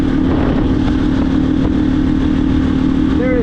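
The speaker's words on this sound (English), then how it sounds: "the engine runs remarkably smooth" A 2022 KTM 350 EXC-F dirt bike fitted with a Taco Moto ECU, its engine running steadily and loudly up close, a smooth continuous hum with no sputtering or popping.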